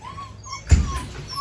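German Shepherd puppies in a kennel, giving a soft whimper and a brief yip over a low background hum, close by and fairly quiet.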